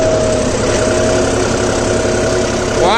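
A John Deere 5405 CRDI Power Tech tractor engine runs steadily while pulling a cultivator in the field, a loud, close, even drone with a constant low hum and a faint rising whine near the end.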